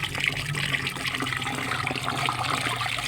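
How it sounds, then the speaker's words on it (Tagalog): Water poured from a container onto eggplant and okra plants growing in pots, a steady splashing stream with dense trickling that runs unbroken through the whole stretch, close and fairly loud, with no talking. "Tutubigan na po natin."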